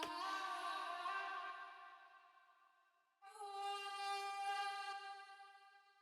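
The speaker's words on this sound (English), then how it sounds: "Now the last thing I added is some vocal chops from Exhale from" Two airy vocal chops from the Exhale library by Contact, played in FL Studio: a bright, sustained sung tone fades out, then a second held vocal note cuts in and slowly decays.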